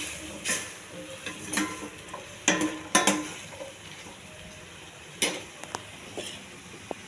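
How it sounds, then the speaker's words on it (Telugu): Eggplant and boiled chickpea curry is mixed in a pan, with scattered scraping and clinking of a spoon against the pan over a faint sizzle, in irregular strokes with no talk. "ఉడికించి పెట్టుకున్న కాబోలి శనగలు, ఈ రెండు కొంచెం బాగా కలపాలి"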